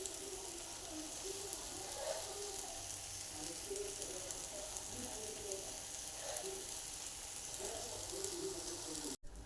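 A jowar flour pancake fries in oil in a pan, giving a faint, steady sizzle and crackle throughout, with a sharp tap near the end.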